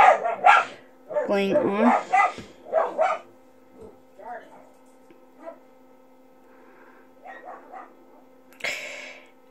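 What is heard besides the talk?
dog barking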